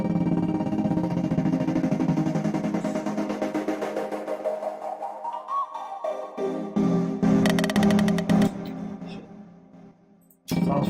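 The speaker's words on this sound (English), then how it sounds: "I expanded the LFO automation here and added a high pass filter" Electronic build-up made in Renoise, with exponential LFO automation and a high-pass filter sweeping upward. A dense, loud synth texture thins out and rises, then breaks into stuttering bursts near the end. No one speaks.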